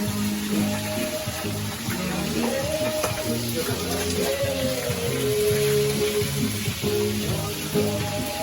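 Steady crackling sizzle of food frying in a pan, with a melodic tune playing over it throughout.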